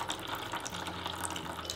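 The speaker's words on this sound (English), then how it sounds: "Now let's have some running water as well." Running tap water splashing into a filled sink in a vegetable-washing video game, a steady, close hiss of pouring water with no talking.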